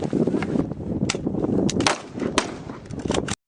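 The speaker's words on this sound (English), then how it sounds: "This is a gun." Rapid bursts of toy gun firing crackle over several seconds, close and loud, with sharp repeated pops over a continuous rattling noise and no talk.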